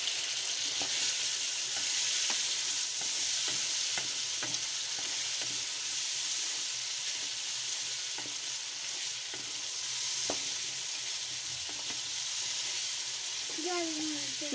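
Potatoes fry in masala in a pan, with a steady broadband sizzle and scattered scraping stir strokes running throughout, close and fairly loud, with a brief voice near the end.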